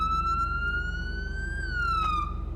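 Police siren in the LSPDFR video game, a loud electronic wail held steady and then sliding up and back down in pitch over a constant pulsing engine drone, with no talking.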